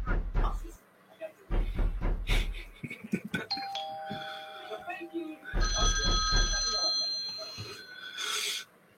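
A bell-type telephone rings in bursts, its bright metallic trills breaking in between loud clattering and thumps, with people talking and a sustained electronic tone in the middle.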